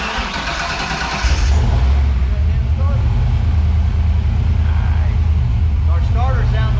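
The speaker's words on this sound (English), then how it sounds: "Starter sounds a lot better too." A car's starter cranks briefly on a Calypso clone fitted with a Tremec TKX transmission, then the engine catches and settles into a loud, steady idle with a deep rumble.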